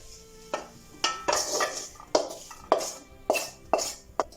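Fried bitter gourd is scooped from a pan of coconut oil into a vessel, producing a series of about eight distinct metallic scrapes and clinks at a steady, uneven pace close by.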